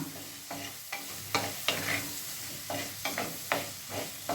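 A spoon stirs ivy gourd curry in a pan with a soft sizzle underneath, giving repeated scraping strokes at a steady rhythm, close and fairly quiet, with no talking.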